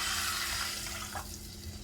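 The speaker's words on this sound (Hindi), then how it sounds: "इसमें मैं 2 गिलास पानी शामिल करती हूँ" Two glasses of water are poured into a pan of hot oil while cooking green rice, giving a loud, dense hiss and rush of liquid that gradually eases and thins toward the end.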